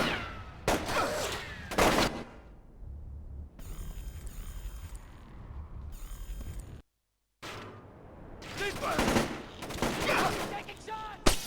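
Bursts of gunfire in a Splinter Cell: Chaos Theory firefight, rapid volleys of shots in clusters, loud and close, with a brief drop to silence midway before the shooting resumes.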